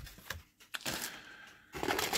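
Plastic foil wrapping on a Trumpeter M2A2 ODS Bradley model kit box being slit open, giving a few close, crisp scratchy cuts and rustling crinkles in quick bursts.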